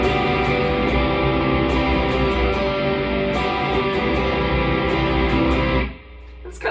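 Electric guitar open chords strummed through a high-gain distorted amp channel, a thick sustained wash of chords ringing loud and close, alone without talk, cutting off near the end.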